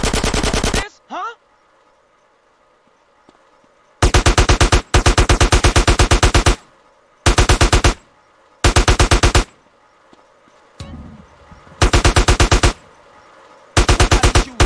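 Loud automatic gunfire rips out in repeated bursts of a second or two in Grand Theft Auto San Andreas Definitive Edition on PS5, separated by quieter stretches where a voice briefly speaks.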